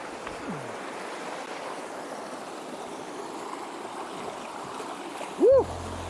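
River water runs steadily over rocks in Cold River, a soft continuous rushing close by, with a short voiced sound near the end.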